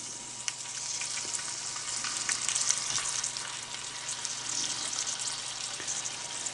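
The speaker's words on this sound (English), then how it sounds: "now, I'm just putting them in a cast iron skillet with about 2 tablespoons of butter" Chicken livers fry in about two tablespoons of butter in a cast iron skillet, giving a steady close sizzle with fine crackles and occasional sharper pops, continuous and without speech.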